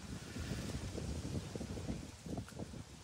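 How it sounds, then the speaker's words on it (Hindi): Strong, cold wind gusts beside open water, buffeting the microphone with a constant low, rumbling roar that swells and dips slightly. "बहुत ही प्यारी प्यारी तेज़ हवा लेकिन ठंडी"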